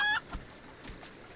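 A green-painted tamed rooster in Final Fantasy XIV gives a short, bright cluck at the start, followed by a few faint, soft clucks and rustles against quiet game ambience.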